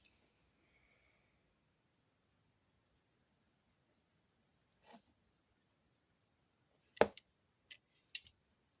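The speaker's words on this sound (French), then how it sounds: "Hop, la règle, comme d'habitude. Le cutter et je coupe." Craft knife drawn along a ruler through paper, giving a few short, sharp scraping cuts that stand out against near silence after a faint bit of handling.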